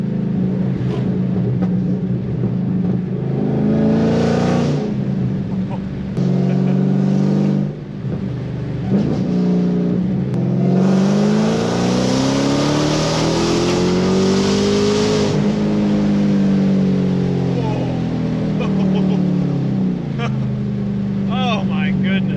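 A loud Dodge Challenger Hellcat pulls hard through its gears, its engine note sweeping up with each shift and roaring close inside the cabin. Excited occupants talk over it.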